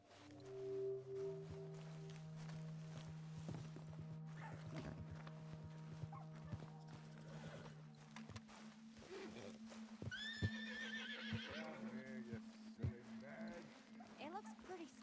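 Horse neighing in the video game Red Dead Redemption 2, a spooked white horse letting out whinnies amid hoof clops and ambient outdoor sound, with characters talking.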